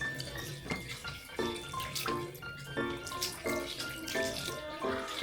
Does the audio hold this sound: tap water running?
yes